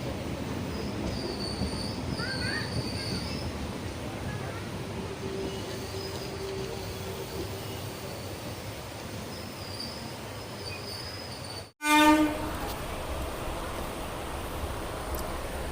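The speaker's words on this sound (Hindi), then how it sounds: "हमारी ट्रेन भी यहाँ से निकल चुकी है" A passenger train on the Mailani–Pilibhit line pulling out of a station, a steady low rumble of rolling carriages with faint wheel squeals, then a sharp brief clatter as it passes close by.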